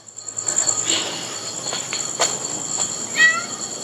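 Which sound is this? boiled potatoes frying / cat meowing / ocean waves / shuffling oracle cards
cat meowing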